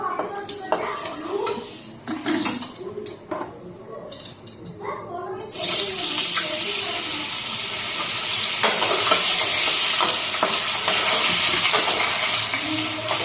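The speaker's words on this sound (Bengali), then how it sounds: "আগে আলুটা ফ্রাই বসাই নিই" Potatoes fry in a pan over a gas flame turned to low, giving a dense, continuous sizzle that swells partway through and holds steady, after earlier clinks and stirring sounds.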